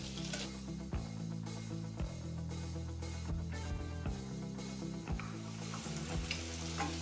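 Leeks cook in melted butter in a pan, a steady close sizzle broken by repeated scraping strokes and knocks of a wooden spoon, with a low hum underneath.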